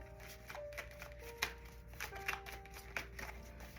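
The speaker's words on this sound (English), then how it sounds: "We're going to give these Oracle cards a nice little shuffle." Oracle cards are shuffled close up, with soft riffling and flicking bursts and light taps over a quiet background hum.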